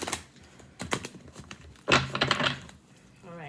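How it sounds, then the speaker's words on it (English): Tarot cards being shuffled by hand, giving a series of uneven clicks and riffling bursts close to the microphone, with a louder flurry partway through. "Let me go ahead and shuffle your cards."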